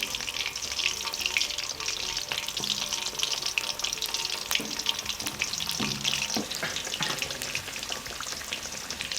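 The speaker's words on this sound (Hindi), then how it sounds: "चम्मच के साथ इनके ऊपर घी उल्टाएं ताकि चारों साइड से अच्छी तरह ये फ्राई हो जाए" Capsicums stuffed with keema fry in hot ghee, giving a dense, continuous close sizzle with faint spoon clinks now and then, heard alone without speech.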